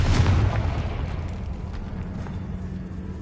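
A Confringo blast spell from a Harry Potter video game bursts with a loud, boomy explosion at the start, then a rumbling low tail decays steadily over a few seconds.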